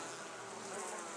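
Honey bees at a top bar hive buzz in a dense, steady drone, close to the microphone and fairly quiet, with no voices.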